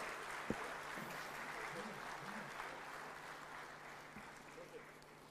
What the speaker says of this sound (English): a bigger round of applause to our distinguished presidents